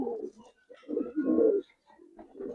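Giribaz and coloring pigeons coo close by in soft, throaty bursts, several rolling calls rising and falling across a couple of seconds with short quiet gaps between them.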